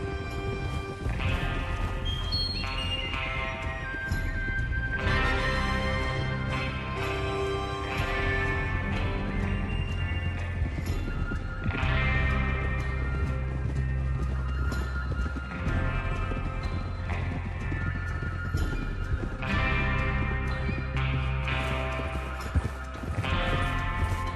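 Horses in Red Dead Redemption 2 galloping through snow, with steady loud hoofbeats, repeated neighs and whinnies over a dense bed of game music, riders moving together.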